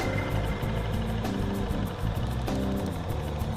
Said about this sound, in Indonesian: Mesin saya nyalakan di sini.